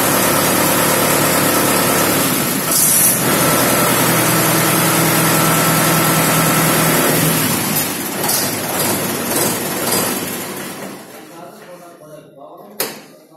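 A 2018 Mahindra 575 tractor diesel engine idles with a steady, loud low rumble that fades near the end, followed by a short knock-like clunk, with someone talking over it.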